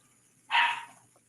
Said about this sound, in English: he's barking back there